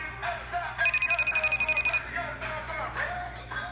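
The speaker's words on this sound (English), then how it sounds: "I'm FaceTiming Maul right now" FaceTime outgoing call ringing tone from a phone, a steady pulsing ring repeating rapidly, heard under someone talking with a background hum.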